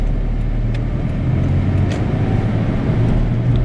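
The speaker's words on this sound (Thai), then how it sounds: "สภาพเครื่องยังดีอยู่ ออกตัวเกียร์สองสบาย" A used car's engine hums steadily up close with a low rumble as it pulls away in second gear at an even pace with faint road noise.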